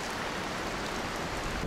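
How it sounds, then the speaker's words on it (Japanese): Heavy typhoon rain pours down in the PS2 game Blood: The Last Vampire, a steady dense hiss with no breaks, fairly quiet and broadband, with no voices over it. "本格的に雨足は強まっていた"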